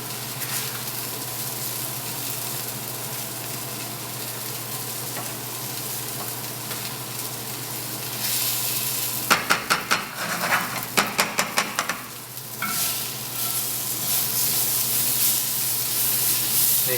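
Quinoa pasta sauce sizzles in a pan as it is stirred, a steady close frying hiss broken midway by a quick burst of rapid scraping and clattering from the utensil, then settling back to sizzle.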